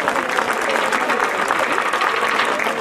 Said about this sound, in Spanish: un caluroso aplauso a este ballet internacional de Jammu